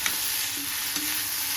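Cashew nuts fry and sizzle in hot oil in a pan, stirred with a few soft scraping strokes, a steady close hiss with no voices.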